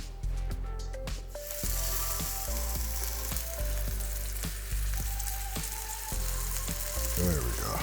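Pork chops sizzle and fry in oil in a cast iron skillet, a loud steady crackle throughout with scattered pops and occasional clinks of utensils, no talking.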